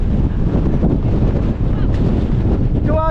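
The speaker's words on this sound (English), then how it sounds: "Windy." Gale-force wind roars across a fell top in the Langdales, Lake District, buffeting the microphone in a loud, continuous blustery rush.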